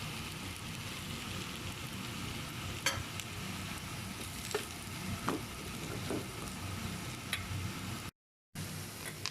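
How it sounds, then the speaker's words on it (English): Onions frying in a pan while a chili powder and salt mixture is stirred in, giving a steady close sizzle with a few soft scraping clicks and no talk. "So let me add the mixture of chili powder and salt now."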